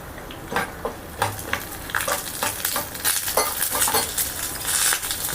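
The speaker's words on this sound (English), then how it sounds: "When it is fried, now we'll add some curry leaves in this." Curry leaves sizzling as they hit hot oil in a pan for rasam, a crackling, spattering fry with irregular bursts and a few faint utensil clinks, close and without talk.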